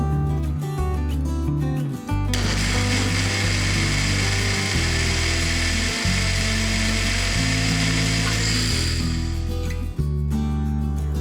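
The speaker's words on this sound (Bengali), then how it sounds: "এবার সবগুলো উপকরণ একসাথে ব্লেন্ড করে নেব" A blender whirs loud and steady for about seven seconds, blending BBQ chicken marinade ingredients, starting abruptly after a short lower hum and cutting off near the end; no one speaks.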